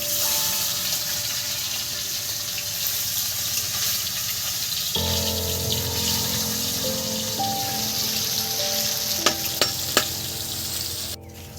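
Katla fish pieces fry steadily in hot oil for a mustard katla dish, a close, continuous crackling sizzle with stirring and a few sharp clinks and scrapes near the end.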